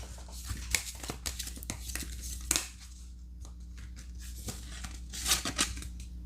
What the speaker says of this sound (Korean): 좋은 카드 한 장 더 뽑아보도록 할게요.